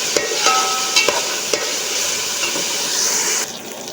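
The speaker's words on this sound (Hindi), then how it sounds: "इसको अच्छे से फ्राई करेंगे।" Food sizzles and hisses steadily in a hot pan while frying with garlic-ginger paste for chicken matar pulao, with a few clinks of a utensil stirring, close and fairly loud.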